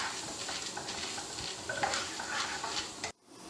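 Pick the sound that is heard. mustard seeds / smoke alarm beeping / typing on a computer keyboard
mustard seeds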